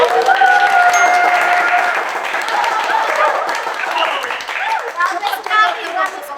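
Audience applause from a large crowd, dense clapping with cheering and chatter, loud at first and thinning toward the end as voices take over.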